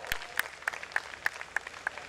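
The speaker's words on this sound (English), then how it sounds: "I think we should give them a big round of applause." An audience applauds the sixteen finalists of a large competition, a sparse, faint scatter of claps with a few sharper hand strikes spaced at roughly regular intervals in a quiet hall.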